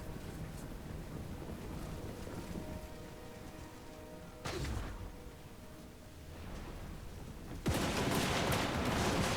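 Gunner units fire in a Total War: Warhammer 2 battle, with distant rumbling volleys and a few sharper bursts over a steady noisy battlefield bed that grows louder at the end.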